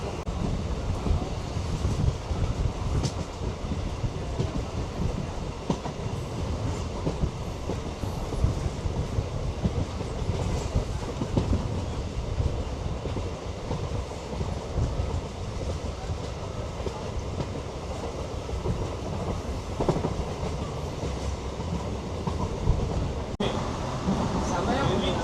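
MEMU passenger train running between Coimbatore and Dindigul gives a steady rumbling roar with faint clickety-clack and wind buffeting, heard from on board and continuous throughout.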